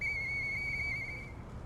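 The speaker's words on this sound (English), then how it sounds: "I know that whistle." A steady, high whistled tone in the video game Lies of P holds for over a second against a low background hum, then fades slightly toward the end.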